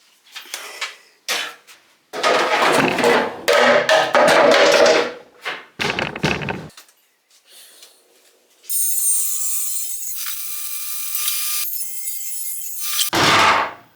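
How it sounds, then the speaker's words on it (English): Pallet wood 2x4s are sawn into two-foot sections in loud, close bursts of rough cutting separated by short pauses, followed by a sustained high-pitched machine whine, with no voices. "I'm cutting them down into 2-foot sections"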